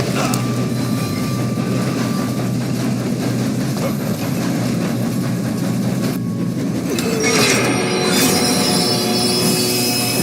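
Railway wagons rolling on the rails in Red Dead Redemption 2, with a steady low rumble and a high metallic squeal of the wheels that rises toward the end. The noise is continuous and close, with no speech.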